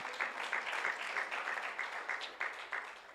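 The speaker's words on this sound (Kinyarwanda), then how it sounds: "Amashyi menshi ku mwami Yesu Kristo." Applause from a church congregation during a sermon, a fairly steady rattle of many hands with rhythmic surges, as if clapping in time, with no one speaking.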